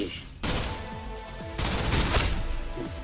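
Gunfire in the shooter game Snowbreak comes as rapid, dense bursts of shots, loud and close, with a brief quiet gap early on before a second, heavier volley.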